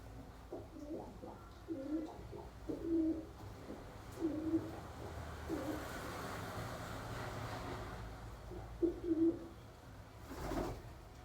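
A painted pigeon coos softly in a repeated series of low, hooting calls, with a pause in the middle before a final couple of coos, fairly faint over quiet background noise.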